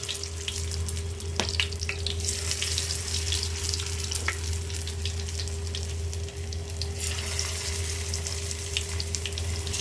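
Fish pieces fry in hot oil in a frying pan, giving a steady, close, watery hiss. A low hum sits underneath, and there is no speech.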